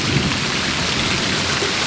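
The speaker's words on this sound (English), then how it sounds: "the rain is really coming down" Heavy rain pouring down in a thunderstorm, a dense loud hiss of water hitting surfaces all around, steady and unbroken with a low rumble beneath.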